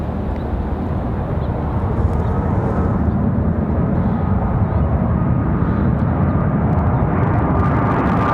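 A Boeing 737 MAX 8 airliner at Raleigh-Durham airport: a loud, continuous broadband jet engine roar, steady and fairly close throughout, with no clear voices over it.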